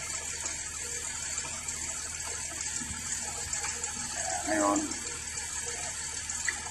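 Water runs steadily from a tap at a parking-area rest stop in Maasin City, Southern Leyte, a constant hiss with a voice speaking briefly over it.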